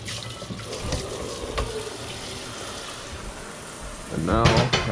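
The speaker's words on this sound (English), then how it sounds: "Give it another rinse" Tap water runs into a kitchen sink while a pan is rinsed, a steady close hiss and splash that swells louder near the end as the pan catches the stream.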